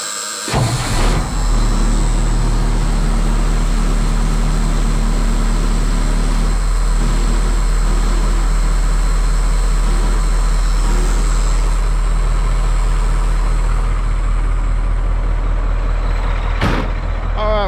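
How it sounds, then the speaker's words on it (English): A Ford L8000 truck engine idles steadily while warming up, a constant loud low drone with a sharp air-brake hiss near the start and again near the end. "we're gonna let the truck get warmed up"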